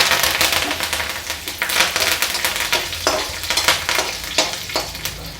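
Mustard seeds and curry leaves tempering in a couple of teaspoons of hot oil in a kadai: loud, close crackling and sizzling with sharp popping bursts and stirring scrapes, with no voices.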